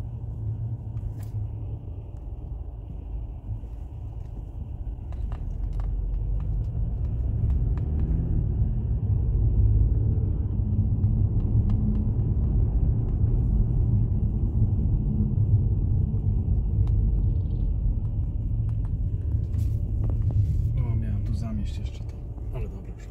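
A car drives home along the road, heard from inside the cabin. A steady low engine and road rumble swells slightly and holds, with people talking over it.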